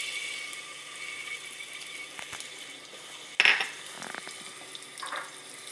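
Garlic frying in extra virgin olive oil in a pan, giving a faint, steady sizzle under a few clinks of utensils and one sharp metallic knock partway through.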